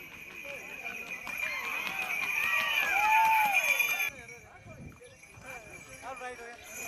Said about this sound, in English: villagers bring their best horses for the traditional celebratory game of kata racing